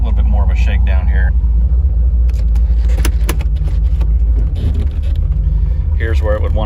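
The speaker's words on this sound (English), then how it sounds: "I'm going to give it a little bit more of a shakedown here." A C4 Corvette engine on a shakedown drive, recently fixed after a fuel pressure regulator fault and still hesitating, rumbles loudly and continuously from inside the car, with brief bursts of talk near the start and end.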